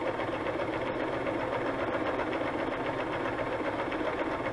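Sewing machine stitching a junk journal cover, a steady close whirring drone running continuously without pause, fairly loud, with faint ticks near the start.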